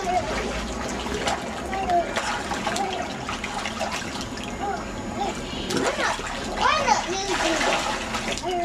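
A child splashes in pool water, with irregular splatters and sloshing close by while an adult and children talk over it.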